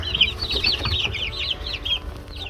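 Egg-laying chickens cluck and squawk in a rapid, overlapping run of short calls, fairly close, over a low rumbling background.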